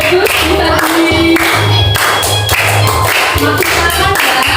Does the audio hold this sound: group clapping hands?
yes